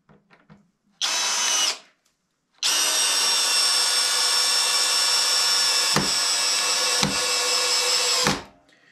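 A Greenworks cordless drill on its highest clutch setting drives a 4-inch screw into wood: a short whining burst, a pause, then a long loud continuous whir with a few brief dips, before it spins down.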